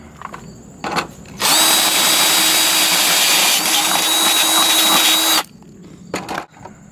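A power drill whines loudly at a steady high pitch for about four seconds while drilling a hole in metal with an oiled bit, bracketed by quiet handling noises before and after.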